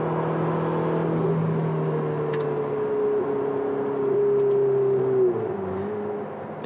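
A Ferrari 488 GTB engine drones steadily at close range as the car slows, its pitch sliding lower, with a brief gear change near the end and no talk over it.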